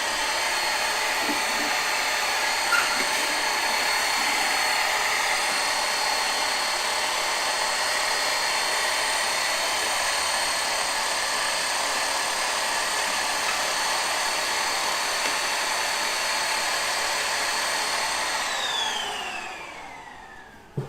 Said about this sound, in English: this little wireless vacuum ain't powerful enough to handle all that